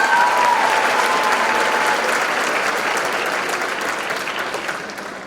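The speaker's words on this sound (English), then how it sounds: "Let's give them another round of applause, and congratulations, ladies." An audience at the Miss Kenosha scholarship competition claps loudly, a dense burst of applause that slowly thins out over a few seconds.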